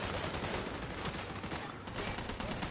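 Sustained gunfire in The Division 2, a dense continuous fusillade of overlapping shots with no pauses, quiet overall and without speech.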